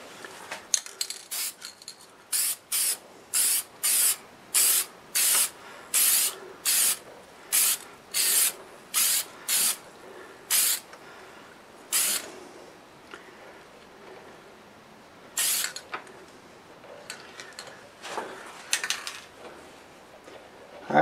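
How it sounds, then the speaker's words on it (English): Rust-Oleum lacquer sprayed from an aerosol can onto a turned wooden bowl, a run of about a dozen short, loud hissing bursts in steady rhythm, then a pause and a few scattered sprays with light clinks between. "I'll be spraying a different lacquer today. It's the Rust-oleum lacquer."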